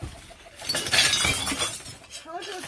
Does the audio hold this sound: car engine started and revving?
no